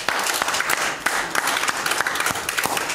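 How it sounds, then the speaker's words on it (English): A church congregation claps on a Sunday morning, the hand claps coming in a brisk, uneven patter, fairly close and moderately loud, filling the full three seconds without voices on top. "Give him a hand clap this morning."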